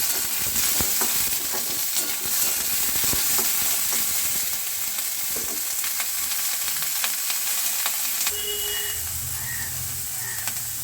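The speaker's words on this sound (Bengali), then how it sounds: "পেঁয়াজ রসুন কাঁচা লঙ্কা দিয়ে ভালো করে আমি ভেজে নেব" Vigorous sizzling of onion, garlic and green chilli frying in a pan, with continuous hiss and repeated scraping strokes of a spatula stirring them, close and loud.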